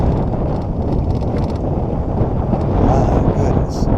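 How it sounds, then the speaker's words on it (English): Strong, high wind over a lake during crappie fishing with bass boats around roars continuously into the microphone, a loud, dense rumble with gusty surges and no speech. "This pocket's long enough, it's got some wind in it."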